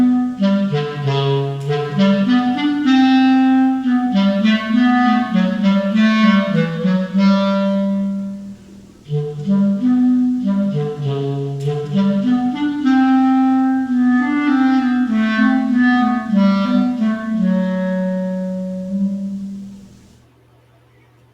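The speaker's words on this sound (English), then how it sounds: "The instrument he uses is the clarinet." A solo clarinet plays Prokofiev's sneaky cat theme from Peter and the Wolf. The melody is close and loud and moves in a low register with smooth phrases, pausing briefly midway and then ending.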